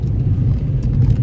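Car coasting and slowing on snowy roads with the clutch held at the bite point, a steady low engine and road rumble throughout, fairly loud and continuous with no talking.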